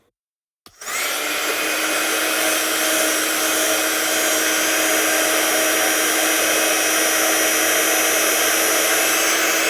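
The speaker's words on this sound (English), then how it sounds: "Dry it off with our gun." A heat gun blasts a steady, loud broadband whoosh of air while drying a freshly stamped card, switching on abruptly and running without pause.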